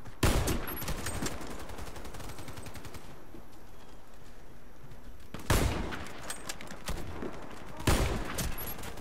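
Bursts of rapid automatic gunfire in the Warface shooter game on PS4, loud dense volleys with sharp onsets near the start and again around the middle and end, sustained crackling fire between them.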